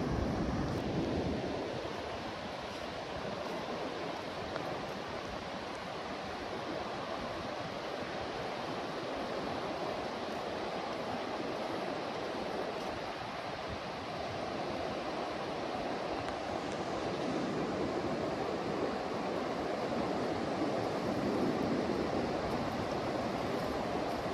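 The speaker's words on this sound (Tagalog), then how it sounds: "Ang ganda ng alon ng dagat." Sea waves break on the shore in light drizzle, making a continuous loud wash of surf with gusts of wind noise that never stops, and nobody speaks over it.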